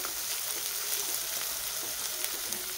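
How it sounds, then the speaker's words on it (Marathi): Chopped onion and peanuts fry in hot oil in a pan for Maharashtrian upit, giving a continuous bright, crackling sizzle with small pops, close and moderately loud, with no voices. "कांदा पण छान परतत आलेला आहे"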